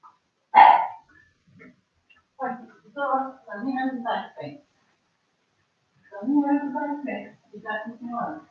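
A pet dog named Buddy barks once, sharp and fairly close, at the start, followed by someone talking over several stretches while the dog stays quiet.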